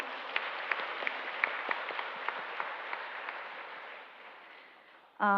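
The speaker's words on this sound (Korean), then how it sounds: "감사와 영광의 박수를 먼저 올려드리겠습니다" A congregation at an interdenominational women's church gathering applauds in a sustained, even wave of clapping that fades gradually, followed by a brief voice at the very end.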